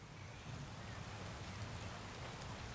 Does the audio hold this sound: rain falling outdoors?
yes